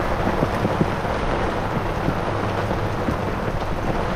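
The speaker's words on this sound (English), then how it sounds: "And it's raining." Rain falls outdoors by the water as a dense, even hiss that holds steady and fairly loud from start to end, with no voices.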